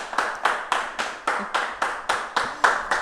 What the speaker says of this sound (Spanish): Aquí me están aplaudiendo.